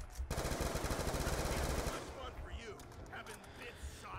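Rapid automatic assault rifle fire in Black Ops 2 Zombies on the Buried map, a loud, fast stream of shots for about two seconds before it stops, followed by the game's background sounds and a player speaking.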